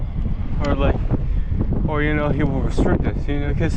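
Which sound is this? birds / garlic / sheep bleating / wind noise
wind noise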